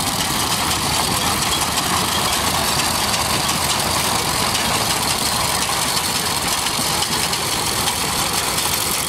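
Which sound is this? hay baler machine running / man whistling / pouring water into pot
hay baler machine running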